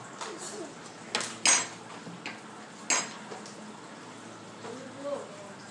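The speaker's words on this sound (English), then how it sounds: "And then I'm gonna add 2 cans of corn." Two cans of corn tipped into a big bowl for avocado and corn salsa, giving a few sharp metallic clinks and soft pouring thuds up close, with quieter kitchen rustle in between.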